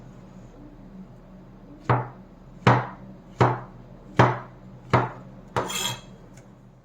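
A knife chops through ingredients for bruschetta on a cutting board, six distinct, evenly spaced thuds with short ringing tails, close and clear against a quiet background.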